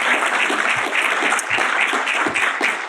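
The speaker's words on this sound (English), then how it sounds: "Let's give them a round of applause" A crowd at a library arts presentation applauds, a dense, steady burst of clapping hands lasting a few seconds with no voices on top.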